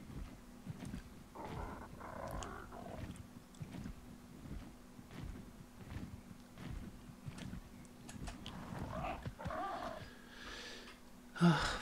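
A cat creature in the video game ARK gives low purring, growling sounds with a steady hum under them, and a few louder bursts rise and fade over the span.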